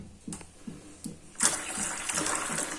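Water gushes steadily into a pot for making coffee in a home kitchen after a few soft taps and knocks. It is close and continuous, with no talk.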